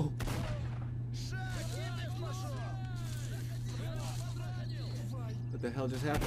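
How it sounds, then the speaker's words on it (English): Gunfire in the shooter game S.T.A.L.K.E.R. Shadow of Chernobyl, scattered bursts of shots over a steady low hum and chirping ambience, with a voice talking over it near the end. "Who's shooting?"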